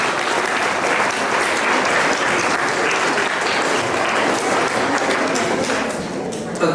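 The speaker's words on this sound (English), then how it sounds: "Please give them a clap." Loud, continuous applause from a school audience at a middle school English elocution contest, a thick wash of clapping that holds steady and fades slightly near the end.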